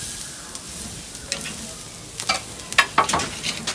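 Steak on a barbecue grill, a faint hiss that builds into louder crackles and pops toward the end, close by with no talk.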